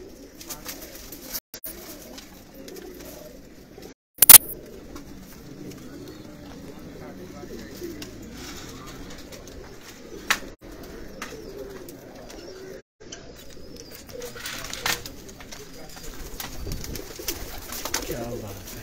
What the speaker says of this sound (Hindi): जबरदस्त कबूतर हैं जी